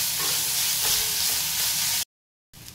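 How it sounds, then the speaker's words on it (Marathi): Grated sweet potato stir-frying with chillies in a pan gives a dense, steady sizzle with faint scraping of stirring, close and loud, then cutting out abruptly to silence before briefly resuming. "मी आता हे रताळाचा किस त्याच्यात घालत आहे। तो आपण सर्व असा परतून घ्यायचा आहे थोडा वेळ।"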